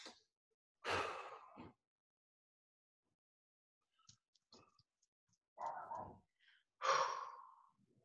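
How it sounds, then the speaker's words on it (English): A deep breath drawn in and blown out during a guided energy exercise, heard as a loud breathy exhale near the start, quiet breaths and small sounds through the middle, then two more audible sighing breaths at the end. "take a deep breath and blow it out"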